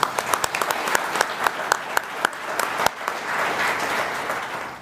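An audience applauds award winners at a community development group's annual meeting, beginning with a few sharp, separate claps that swell into a steady round of applause, moderately close.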